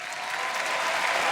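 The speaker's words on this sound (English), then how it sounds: "Madrid fans cheering SOAS" Esports fans at a League of Legends EU LCS summer playoff grand final, a dense roar of applause and cheering from a large arena crowd, loud and sustained throughout.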